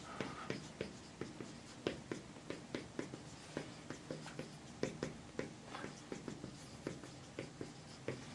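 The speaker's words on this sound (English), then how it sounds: "Let me write it up on the board first." A marker squeaks and taps across a whiteboard in short rhythmic strokes, close and fairly quiet, forming a steady series of scratchy bursts with no talking over them.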